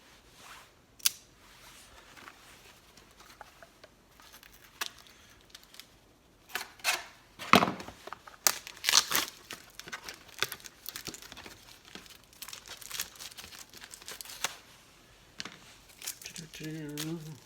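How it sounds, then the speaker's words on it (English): Scissors snip and tear into plastic packaging from a tool and supply haul, sharp crinkling and cutting noises coming in irregular bursts close by, with a person talking quietly between them. "Let's cut this open."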